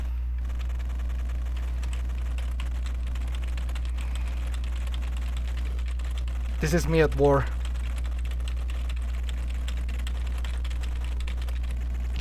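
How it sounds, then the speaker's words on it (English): Computer keyboard keys clatter faintly in a quick, irregular patter over a constant low electrical hum, with a brief spoken phrase near the middle. "Can you hear that keyboard?"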